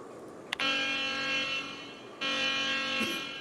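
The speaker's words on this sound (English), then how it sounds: "Activate alarm." An alarm activated in The Outer Worlds sounds as a harsh, steady electronic buzzing tone, cutting out briefly and then resuming, loud and close with no talk.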